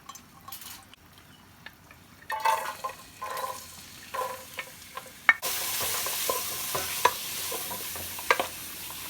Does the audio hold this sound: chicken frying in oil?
yes